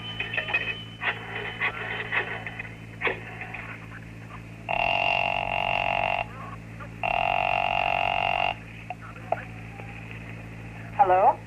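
A payphone is dialed after a coin drops in, with clicks and two long ringing tones over a steady hum in an old radio drama, followed by a brief voice at the end.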